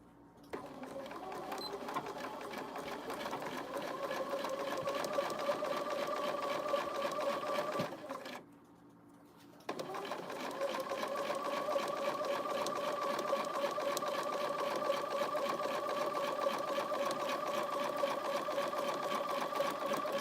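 A sewing machine stitches a quarter-inch seam in a steady, fast mechanical whir. It pauses briefly for about two seconds in the middle, then runs on at an even pace.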